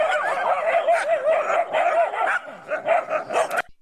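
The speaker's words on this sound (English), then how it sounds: "You see the warning that this dog's giving this dog" A dog barks a series of sharp warning barks and yips at another dog, repeated in quick bursts, close and fairly loud, with no talking.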